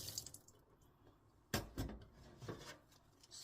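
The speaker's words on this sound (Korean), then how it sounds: "아침에 설거지를 합니다." Tap water splashes and trickles at a kitchen sink while dishes are washed in the morning, faint and close, with a few sharper splashes and clinks.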